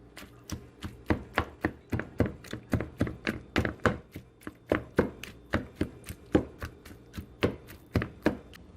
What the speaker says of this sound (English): I'm just gonna break the fish up into a bowl,